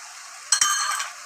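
Spoon stirring mushroom curry in a pan after chili powder and garam masala go in, a short scraping stir with faint sizzling, close and brief, no talk.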